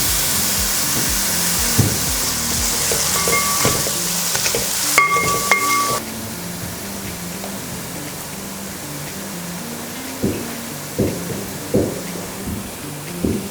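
Onions sauté in a pan for a vegetable kurma with a loud, dense hiss of frying. Occasional scraping stirs and a few knocks come through, and the sizzle settles slightly softer midway.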